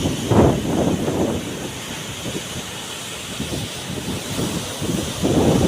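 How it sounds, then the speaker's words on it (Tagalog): Large waves, close to two meters high, churn and crash under strong northeast monsoon wind, which buffets the microphone with a constant loud roar and heavier surges near the start and end. "Bumabaloktot yung alon."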